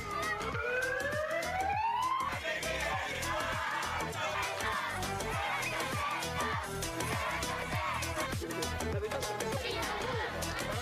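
Magen David Adom ambulance siren in Israel, wailing steadily in a rising and falling pattern at a distance beneath continuous crowd chatter and rhythmic background noise.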